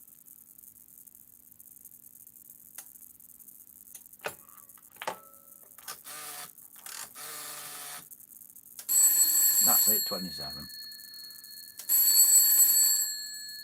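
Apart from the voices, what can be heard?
telephone bell ringing through telephone exchange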